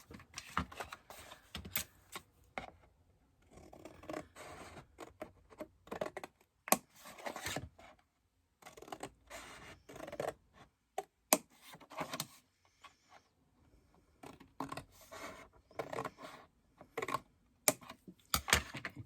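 Card stock being cut along score lines for a corner inverted box, heard as a series of close, crisp snipping and tapping bursts in irregular clusters separated by brief pauses, with no talking.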